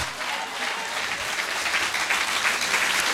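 A church congregation claps loudly and continuously for the Lord, a dense sustained wave of applause that swells slightly toward the end.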